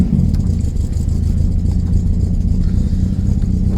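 A 1974 VW Beetle engine runs steadily, a close, loud low rumble that holds a constant idle-like drone throughout with no voices.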